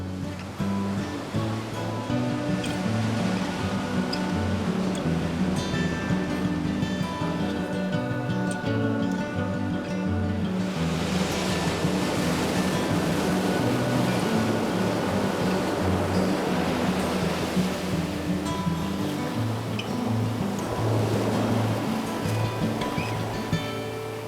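Ocean surf rolls in at El Matador Beach at dusk, a steady broadband wash with a swelling surge near the middle, heard under soft background music.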